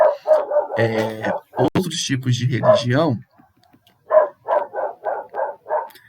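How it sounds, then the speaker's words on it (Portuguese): A dog barks in a series of about six sharp, evenly spaced barks, following a stretch of a person talking, fairly close and clear on its own. "esse cachorro me desconcentrou"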